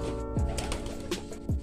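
Racing pigeons cooing close by, a few soft low coos with rising swoops over a background of birds, no talk.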